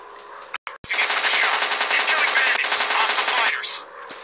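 Sustained rapid aircraft machine gun fire from a fighter plane in the combat game War Planes, a loud dense rattling burst lasting about three seconds after a couple of brief clicks, heard alone without talk.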